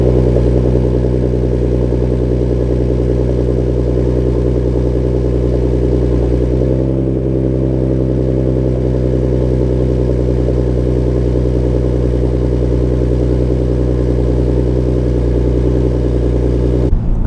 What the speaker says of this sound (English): You guys are here for exhaust clips. Let's make it happen.